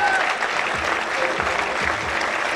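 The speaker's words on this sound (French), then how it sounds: "je vous demande d'applaudir Alexis Kouaïchi" A crowd applauds a table tennis player being introduced before a team match, a steady wash of clapping that fills the whole moment, with a faint voice underneath.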